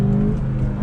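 A 2019 VW Jetta GLI with manual transmission accelerates hard, its engine giving a loud, steady, close drone with tonal harmonics and no speech over it.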